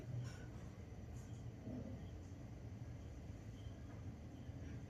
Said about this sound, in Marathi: परत एकदा आली फिरून ट्रेन.